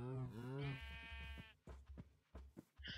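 Sheep in the Minecraft video game bleat in a wavering, drawn-out cry, followed by quieter short clicks and footstep-like game sounds, with some talking mixed in.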